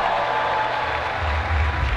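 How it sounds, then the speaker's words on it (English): An audience claps and murmurs as a host is introduced at a live event, a steady, close wash of applause with light crowd noise throughout. "Y'all stop clapping immediately."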